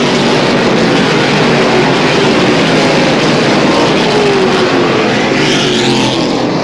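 Race cars at the 1999 Englefield Ford Spring Green race roar together as a pack, bunching into a corner. The engine noise is loud, dense and continuous, with overlapping engines blending into a broad wash.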